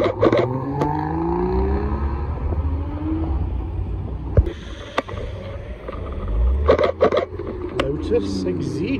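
A manual sports car leaving a car show blips and holds its throttle, the engine note sweeping up and down, with sharp cracks and passing traffic over a crowd murmur.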